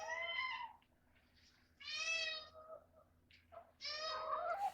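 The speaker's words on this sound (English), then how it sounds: "My favorite thing to listen to is cats begging for food because they're so loud." Cats meowing loudly and insistently while begging for food as their owner prepares a dish, giving three drawn-out meows close by with quiet gaps between them.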